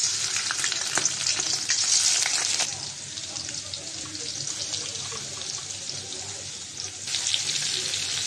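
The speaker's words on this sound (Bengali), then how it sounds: "চিংড়ি মাছগুলো একটু ভেজে নেব।" Shrimp frying in hot oil in a kadai, a steady loud hiss and crackle of sizzling that eases slightly midway and then flares up again, with no talking.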